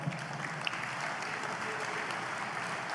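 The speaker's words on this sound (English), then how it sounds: "Give yourselves a round of applause." Convention audience at an American Legion national convention applauding steadily, a dense sustained wash of clapping in a large hall with no voices standing out.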